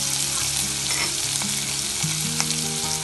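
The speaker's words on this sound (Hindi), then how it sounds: "और 1 ऑनियन, इसको अच्छे से भून लेंगे। इसमें डालेंगे भून के रखे हुए मूंगफली 2 स्पून," Onion and roasted peanuts sizzle loudly and steadily in a hot pan, a dense unbroken frying hiss close to the microphone, with no talking.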